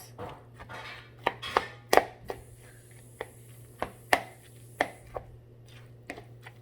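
A utensil breaking up chunks of chicken breast while mixing food in a bowl: irregular sharp knocks and taps, some louder than others, over a low steady hum.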